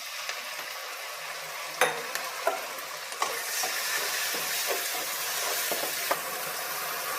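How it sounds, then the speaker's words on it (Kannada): Tomato puree made from two ground tomatoes is added to onion and ginger-garlic paste frying in a pan, giving a loud steady sizzle broken by a few stirring knocks, with no voices. "ಟೊಮೊಟೊ ಪ್ಯೂರಿ 2 ಟೊಮೆಟೊನ ರುಬ್ಬಿ ಸೇರಿಸ್ಕೊಳ್ತಾ ಇದ್ದೀನಿ."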